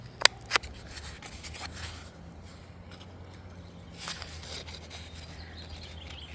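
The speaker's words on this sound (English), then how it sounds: "Make just a few little cuts." Scissors snip small slits into a cardboard toilet paper roll close up, with a couple of sharp cuts at the start followed by softer rubbing and scraping of the cardboard in a quiet room.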